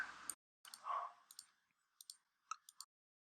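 A computer mouse clicks as lines are selected on screen: a scatter of crisp, quiet single clicks with short pauses between them, close by and without speech.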